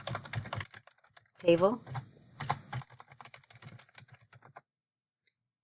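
Clicky computer keyboard keys are struck in quick bursts while entering text into a spreadsheet cell, interleaved with a nearby voice speaking, then fading to quiet.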